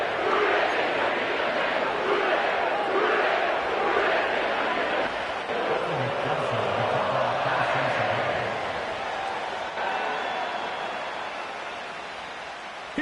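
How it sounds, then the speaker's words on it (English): A sellout stadium crowd roars steadily at Paycor Stadium in Cincinnati before an NFL kickoff between the Steelers and Bengals, a dense continuous wash of distant voices and cheering filling the whole stretch. "sellout crowd has arrived at Paycor Stadium in Cincinnati."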